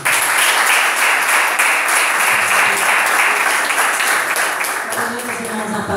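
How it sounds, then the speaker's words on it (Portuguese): A church congregation claps at a youth congress, loud continuous applause filling the space, with voices and music blending underneath. "as palmas para Jesus"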